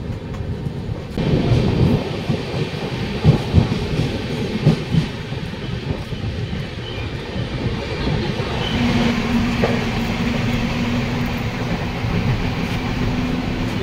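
The Patna–Howrah Jan Shatabdi Express pulling out of Bakhtiyarpur Junction, heard from inside a second-class coach: a steady rumble with clattering thumps of wheels over rail joints, loud and continuous, no talking.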